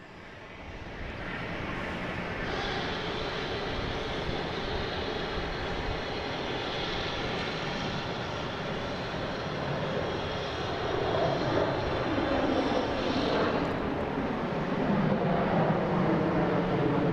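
An Airbus A321 airliner at Boston Logan airport gives a loud, sustained jet engine roar, heard from a distance at first and growing slightly louder toward the end, with no talking.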